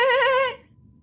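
A human voice imitating a goat's bleat, one wavering, nasal, vibrato-laden cry about half a second long, close and fairly loud, fading out.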